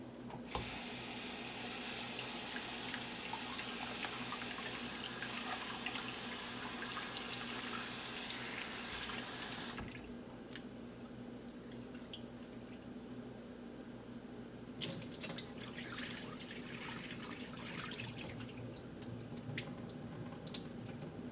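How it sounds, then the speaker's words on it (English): Tap water runs steadily into a sink while red lentils and millet grains are rinsed together, a loud continuous gush that drops to a softer flow partway through, then turns splashy with swishing and dripping as the grains are stirred. "Wash the red lentils and millet grains together"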